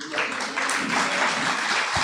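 An audience at a national forum on cooperatives in the creative industries applauds to welcome performers, a dense, fairly faint patter of clapping that continues steadily throughout.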